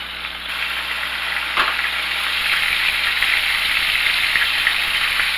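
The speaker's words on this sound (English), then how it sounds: "I'm going to turn it up high and let these fry up." Burgers fry in hot oil on high heat, giving a loud, steady, dense sizzle that crackles continuously with no voices.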